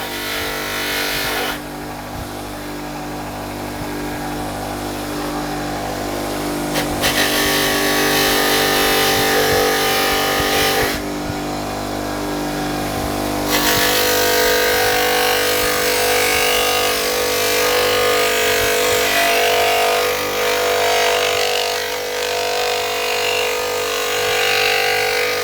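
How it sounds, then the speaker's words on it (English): A motor-driven brass wire wheel scrubs the bottle cap on a Daisy No. 155 BB gun, a loud steady whirring buzz with the pitch and grind shifting as the bristles press on and lift off the metal, no voices. "this is a brass wire wheel."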